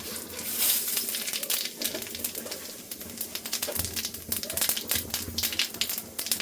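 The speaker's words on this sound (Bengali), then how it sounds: "বেগুন ভাজা তেলে ফোড়ন দিয়ে নেব" Cumin seeds and bay leaves crackle and spit in hot oil left from frying eggplant, a dense run of sharp pops and crinkles over a steady hiss.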